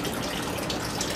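Water running through an NFT aquaponics channel on a back porch, pumped to the top and flowing down and around before dropping back in; a soft, steady trickling gush, faint and continuous.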